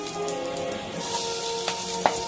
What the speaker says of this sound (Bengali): এই তেলের মধ্যে এবার আজিনামটো দিয়ে দিলাম, কাঁচা লঙ্কা কুচি দিয়ে দিলাম,